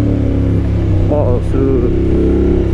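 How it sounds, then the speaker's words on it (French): A Honda X-ADV 2023 scooter with dual exhausts downshifts on a Paris street, its loud engine note dropping and burbling up close beneath someone talking excitedly over it. "cette descente de vitesse, miam"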